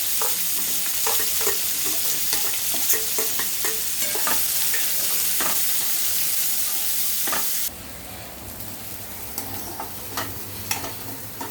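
Finely chopped onions fry in a pan with spices, a dense steady sizzle with frequent spatula scrapes and clicks, dropping to a softer crackle for the final few seconds.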